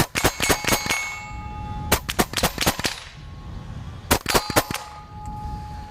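A KalibrGun Springbok semi-automatic PCP air rifle fires in three quick bursts of sharp, close cracks, each volley a fast run of four to six shots separated by short pauses.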